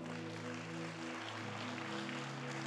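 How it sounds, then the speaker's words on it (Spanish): A church congregation applauding together, a steady, dense wash of clapping at moderate distance that holds throughout under a sustained musical drone. "¿Cuánto le dan un fuerte aplauso al Señor?"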